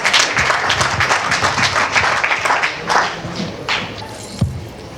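A crowd applauds steadily with dense clapping that slowly thins toward the end, ending with a single thump, at a Tamil and Maori hui gathering.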